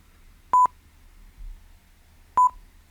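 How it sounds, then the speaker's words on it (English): Two short electronic beeps from a Barcrest The Crystal Maze slot machine, about two seconds apart, each a clear mid-pitched tone over a quiet low hum. "Yeah, there it is. 2 beeps."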